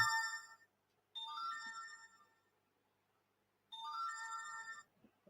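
A phone ringtone plays a melodic electronic chime in repeated bursts with short gaps between them, fairly faint and with no talking.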